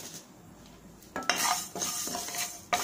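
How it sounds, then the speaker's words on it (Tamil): Fenugreek, asafoetida and mustard seeds dry roasting in a pan without oil, with a few sharp metallic scrapes and clinks of a spoon stirring against the pan, close and moderately loud over a faint background. "அதில் வெந்தயம் போட்டுக்குவோம், பெருங்காயம், கடுகு கொஞ்சமாக போட்டுக்குவோம்"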